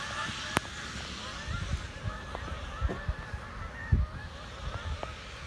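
Geese honk in scattered calls somewhere outdoors, several brief nasal honks spread unevenly through a constant background rumble, moderately distant.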